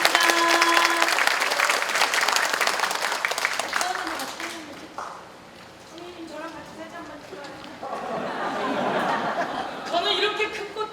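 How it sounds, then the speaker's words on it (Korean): Supporters at a Democratic Party lecture event in Jungnang applauding, loud dense clapping that fades midway, then chatter and cheering voices rise again toward the end. "다시 한번 큰 박수 보내주십시오."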